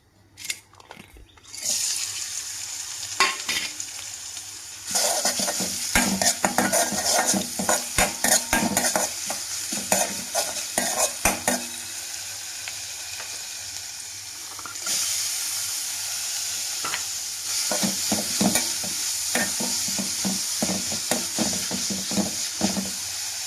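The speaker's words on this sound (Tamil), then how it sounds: "இது எல்லாமே நம்ம எண்ணெயில் விட்டு லைட்டாக வதக்கிடலாம்" Chilli, ginger, garlic, carrot and soaked green gram sautéing in oil in a pan: a continuous sizzle with repeated clattering scrapes and stirring strokes of a metal spoon, loud and close, no speech.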